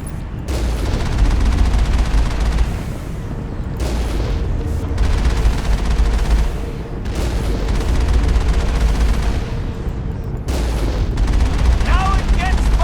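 Turrets firing in Mass Effect, a loud, almost continuous roar of heavy gunfire and booms with only brief dips in intensity.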